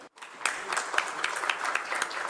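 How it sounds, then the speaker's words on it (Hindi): Applause from an audience welcoming farmers from across India at the Voice of Harvest Awards 2025, starting abruptly after a brief pause and holding as a steady, moderately loud wash of many hands with periodic sharper peaks. "आइए आप सभी का जोरदार तालियों के साथ स्वागत करें"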